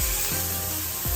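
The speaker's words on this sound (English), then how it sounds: "We're sizzling." A rack of lamb sizzling as it cooks in a home kitchen, a close, steady frying hiss broken by soft scraping or stirring touches, with no one speaking.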